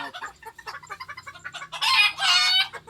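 Serama chicken, a small show-type bantam, heard in a short clip with chicken calls that grow louder and denser toward the end, rising into a loud, sustained crow-like burst over the last second.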